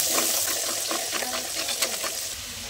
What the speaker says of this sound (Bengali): পেঁয়াজটাকে ভালো করে ভাজবো।